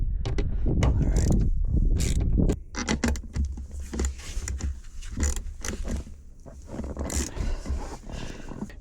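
10mm socket ratchet working on bolts under the seat of a Chevy Silverado or GMC Sierra 1500, close, busy mechanical clicking and rattling with clanks of the tool and a low rumble.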